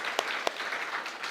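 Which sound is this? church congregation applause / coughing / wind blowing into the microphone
church congregation applause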